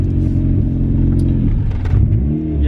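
A Mazda Miata engine revs hard under acceleration, a loud, steady, close-up roar with pitch climbing and shifting throughout, filling the whole stretch with no talk over it.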